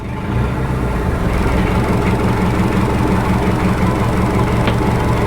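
After a brief start, a boat engine settles into a loud, steady, low idle, running close by with a rhythmic throb and vibration for several seconds, with no speech.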